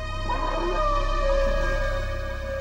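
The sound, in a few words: dogs whimpering and crying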